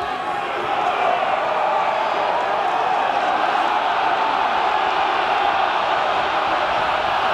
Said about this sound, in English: The crowd gets up behind there.